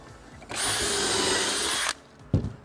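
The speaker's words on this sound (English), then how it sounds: "Drill 4 pocket holes" A power drill whirs steadily for about a second and a half drilling pocket holes in wood, then stops, followed by a brief knock as the workpiece is handled.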